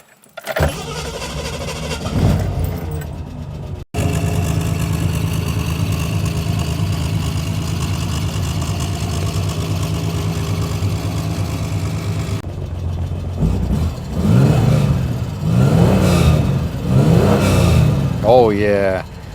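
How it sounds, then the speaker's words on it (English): A Gilbern Invader Mk3 sports car fitted with Gilbern's own exhaust starts up close by, then idles in a steady rumble before a series of loud revs rise and fall near the end, with a voice speaking briefly over it. "you probably want me to actually start the engine"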